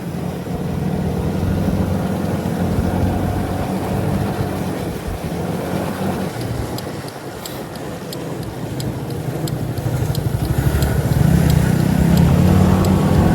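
A continuous motorcycle engine drone nearby, rising in loudness toward the end, with steady mechanical rumble and no talk.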